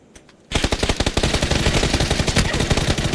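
After a brief quiet moment, rapid automatic gunfire in a video game erupts and continues in a fast, steady stream of loud, close shots.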